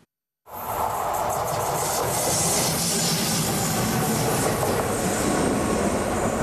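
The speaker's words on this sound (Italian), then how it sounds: "eccolo il primo treno prova che fa da collaudo al ripristino dei collegamenti lungo la tratta ferroviaria Roma-Barilecce" A test train locomotive passes on the Rome-Bari-Lecce railway line near Ariano Irpino, starting abruptly and holding a loud, steady roar of wheels and rails with faint squealing, heard close and alone.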